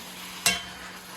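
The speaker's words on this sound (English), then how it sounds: "we are gonna go ahead and mix our gravy up while our steak is cooking" Gravy is stirred in a pan while chuck steak fries. A single quick scrape-and-splash stroke rises briefly over a faint, steady sizzle.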